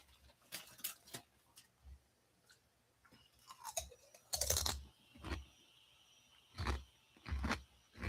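Someone crunching food while eating, with the microphone moved away from the face; faint, irregular crunches and chewing noises scattered throughout, quiet and somewhat distant, with no talking.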